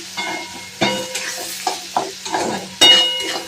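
Wooden-spoon stirring scrapes across a pan of frying mixed-vegetable chorchori, with a steady soft sizzle and several sharper scrape bursts, close up with no talking.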